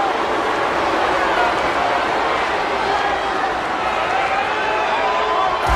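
Dense, steady roar of a wrestling arena crowd in WWE 13 during a Big Show versus Mark Henry I Quit match, loud and continuous throughout under game commentary.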